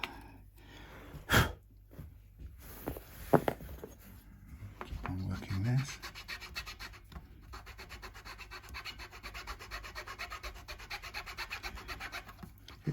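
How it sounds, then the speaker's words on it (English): A very fine file scraping along the neck of a Squier Affinity Strat guitar to flatten it, soft close rubbing strokes that follow a few sharp knocks, with a voice talking over parts of it. "it's a very fine file, so it can't cut like a ton of stuff in one go."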